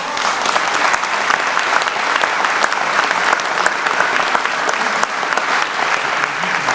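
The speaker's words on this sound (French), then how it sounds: "vous pouvez vous applaudir" An audience at a 2020 New Year's wishes ceremony applauds loudly and continuously, with dense, even clapping throughout.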